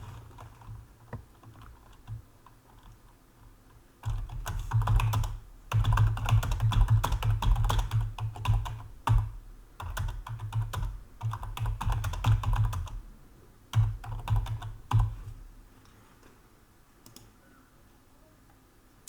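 Keys clack in fast, uneven bursts on a computer keyboard, loud and close, with short pauses between runs of typing and no voices.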